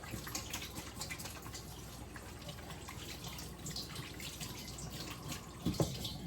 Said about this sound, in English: I'll wash my hands first because it's pork.